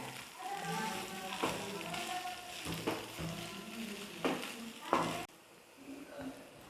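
Peas and potatoes fry and get stirred in a pan over a low flame, a soft sizzle with occasional spatula scrapes running beneath a person talking throughout.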